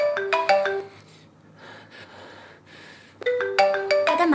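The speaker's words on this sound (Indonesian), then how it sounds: "tiba-tiba HP berbunyi" A mobile phone ringtone plays a bright, melodic burst, falls quiet briefly, then starts ringing again, loud and close, with no talk over it.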